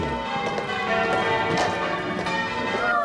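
Church bells ring out across Britain to mark the end of the war, a dense, loud wash of overlapping tolling tones that sustains for the whole stretch.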